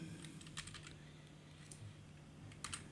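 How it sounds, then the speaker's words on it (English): Soft, faint keystrokes on a computer keyboard come in small irregular clusters over a low steady hum as LaTeX commands for a title page are entered. "I'm going to type again another command that will make my title page to be displayed"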